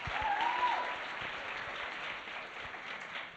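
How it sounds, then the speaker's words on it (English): An audience at a fashion design competition event applauds judge Whitney with a steady round of clapping, strongest at the start and tapering slightly. "Can we have a round of applause for Whitney?"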